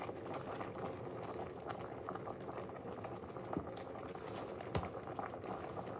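Collard greens simmer and reduce in a hot pot, giving a steady close bubbling and hissing with occasional louder pops.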